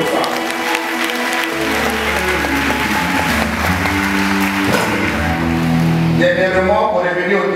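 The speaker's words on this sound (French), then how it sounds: "on peut acclamer Dieu pour ça" Church congregation at a worship service applauding together, a loud, steady wash of clapping with sustained voices and organ-like tones running underneath throughout.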